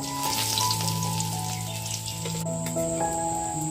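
Cumin seeds and curry leaves sizzle and crackle in hot oil for sabudana khichdi cooked over a wood-fired clay stove, a dense, steady frying hiss heard up close with no talking.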